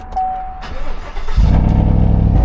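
A used car at a dealer auction, with a check engine light on, cranks and fires into a loud, steady idle after a quiet moment with a brief tone.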